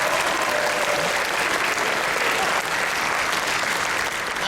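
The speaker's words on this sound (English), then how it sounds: "Give him another round of applause." Dense, loud applause from a convention crowd at an anime convention panel, continuous and even throughout with no pauses.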